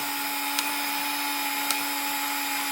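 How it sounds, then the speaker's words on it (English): A Milwaukee expansion tool runs with a steady electric motor whine and a constant hum, pushing out its wedge, with two faint clicks along the way. "So when you press it, it brings out this wedge"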